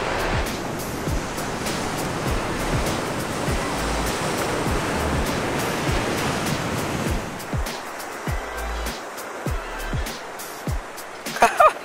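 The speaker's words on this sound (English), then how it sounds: "The surf is pretty small, but it's clean." Small, clean ocean surf rolls in steadily with a continuous broadband wash of breaking waves, close and loud, with brief low bumps from wind or handling.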